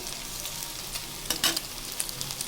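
Pakoras drop into hot oil and fry, making a steady close sizzle that flares into a brief, louder crackling burst midway, with no talking.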